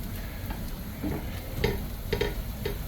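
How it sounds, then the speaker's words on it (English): Garlic sautéing in a pan for Cuban picadillo, a low steady sizzle with a few light utensil taps and clicks, close and moderate in level, without talking. "that's the garlic sauteing there."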